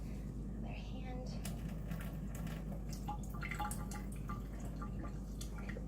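A gentle stream of water rinses a stained blood film slide, with quiet, soft dripping and splashing close by throughout.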